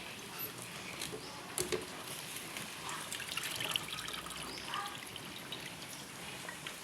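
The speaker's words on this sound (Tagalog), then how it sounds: "Nilalagay na natin ang kangkong." Kangkong (water spinach) going into a pot of simmering pork sinigang with okra and chili, giving a soft watery patter and trickle over a steady bubbling bed, fairly quiet with no one talking.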